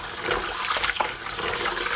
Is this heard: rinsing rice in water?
yes